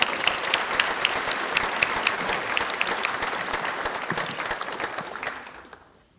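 An audience at a digital culture conference gives dense, lively applause after a presentation. It holds strong for several seconds, then tapers off to silence.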